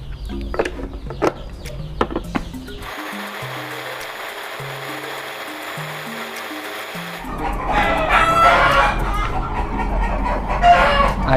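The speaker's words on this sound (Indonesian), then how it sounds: "ayamnya kaget, makanya berisik dia, dikiranya mungkin ada apa gitu." Startled chicken clucking and squawking noisily close by, loud agitated bursts rising over background bustle, with a low tonal stretch in the middle.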